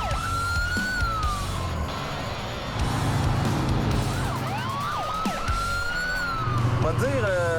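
Police car sirens wailing outdoors on a Québec roadside during a pursuit of a General Lee replica car, with several rising and falling sweeps overlapping over traffic rumble and crowd noise, fairly close and loud throughout.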